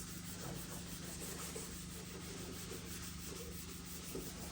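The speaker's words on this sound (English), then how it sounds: "I'm just sanding it flat at the moment, because it's got covered in all sorts of stuff" Steady abrasive rubbing of sandpaper over a Peugeot 207 bumper insert coated in old residue, a continuous close scratchy hiss with no pauses and no voices.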